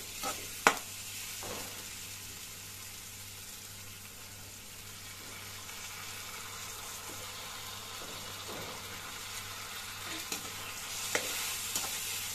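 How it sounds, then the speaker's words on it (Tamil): Ginger garlic paste frying in a pan for a chicken gravy, a faint steady sizzle with occasional soft scrapes and clinks of stirring, quiet and continuous without any voices. "இஞ்சி பூண்டு பேஸ்ட் போட்ட உடனே விடாமல் கிண்டிகிட்டே இருங்க"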